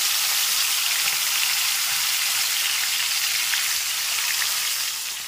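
Salted, turmeric-rubbed dried Bombay duck fish fries in hot oil with a loud, dense, continuous sizzle like heavy rain, holding steady throughout and easing slightly at the end.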